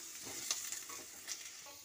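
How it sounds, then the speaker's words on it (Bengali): Potatoes with a little salt frying in hot oil in a pan, stirred now and then, giving a steady soft sizzle with faint scraping touches, close and fairly quiet, no talk. "সামান্য একটু নুন দিয়ে আমি নাড়াচাড়া করে ভালো করে আলুটা আমি ভেজে নিচ্ছি।"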